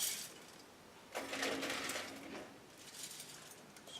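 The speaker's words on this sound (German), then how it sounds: "um die Holzpellets, die wir jetzt einfüllen" Wood pellets pour into a wood-burning stove, a loose rattling patter that swells in the middle of the clip and then trails off, close by and fairly quiet.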